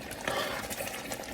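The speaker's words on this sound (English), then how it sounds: "You see, it's splashing again, so I'm turning off the stove again." Jollof rice stew splashing in a pot on the stove, soft bubbling and spattering with a few small pops, faint and continuous at close range.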